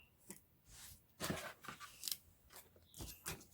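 Scissors snip through doubled t-shirt fabric in a few quiet, close crunching cuts with short pauses between them.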